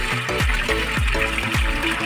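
Water pumped by an electric motor pours into a household tank with a steady gushing fill, punctuated by rhythmic low surging pulses roughly every half second, close and moderately loud.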